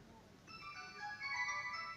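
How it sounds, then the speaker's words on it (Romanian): A mobile phone rings with a bright electronic melody that starts about halfway in and continues to the end, fairly faint against quiet outdoor background. "Cum îți claxona telefonul."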